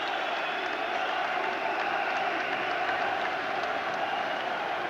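Sustained crowd applause with some cheering fills an arena for a popular boxer before a televised fight, a steady dense wash of clapping throughout with no lulls.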